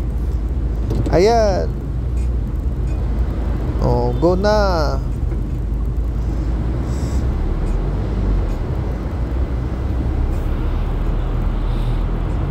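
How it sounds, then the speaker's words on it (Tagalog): Road traffic on Ayala Avenue in Makati forms a steady, continuous roar, with a couple of car horns sounding near the start, while a person talks. "Medyo may traffic."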